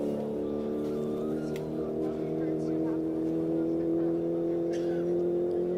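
A race car at Speedweek 2024 roars steadily onto the course, its loud engine holding a rich, sustained drone throughout, with low voices underneath.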